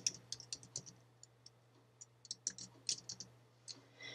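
A computer keyboard clicks as a name is typed into a Microsoft Word document, with light, irregular keystrokes in short bursts, close and quiet, without any talk.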